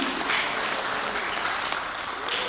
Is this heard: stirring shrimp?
no